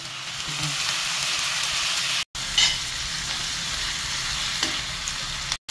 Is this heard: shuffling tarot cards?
no